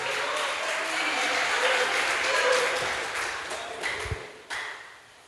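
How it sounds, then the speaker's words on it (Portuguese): Applause from a church congregation during a sermon fills the room, a steady wash of clapping that swells and then tapers off near the end. "dê um aplauso ao eterno, dê um aplauso ao Todo-Poderoso"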